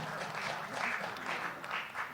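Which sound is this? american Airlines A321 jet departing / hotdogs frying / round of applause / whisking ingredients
round of applause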